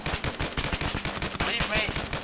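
Rapid bursts of machine gun fire in the military shooter game ArmA 3, loud, dense and continuous for a couple of seconds, with shouted voices mixed into the chaos.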